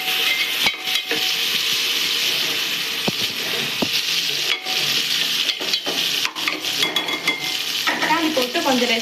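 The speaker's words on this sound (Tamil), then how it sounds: "வதக்கிட்டு இப்போ வந்து எடுத்து வச்சுருக்க தக்காளியை போட்டுடலாம்." Chopped tomatoes sizzle and fry in a pan on the stove, a steady hiss broken by the scrape and clink of a spoon stirring, with no voices.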